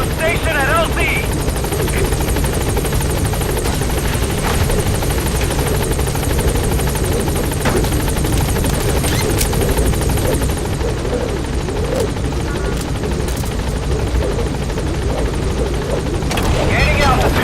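Pequod transport helicopter in Metal Gear Solid V hovering at a landing zone, a loud constant rotor thrum and engine roar close by for the whole stretch, with radio voices over it.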